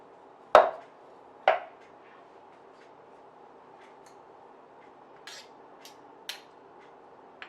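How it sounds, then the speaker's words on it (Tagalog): A very sharp knife chops garlic on a cutting board, with two loud, crisp strikes close by, then a few faint, scattered taps against a quiet background. "Napakabilis magawa ng bawang, maghiwa dito."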